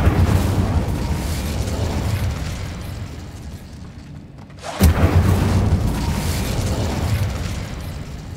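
The Incendio fire spell cast in Hogwarts Legacy: a dense, roaring whoosh of flame that cuts out briefly, then bursts back in with a sudden pop and keeps roaring loud and close.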